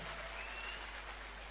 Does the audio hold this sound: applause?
yes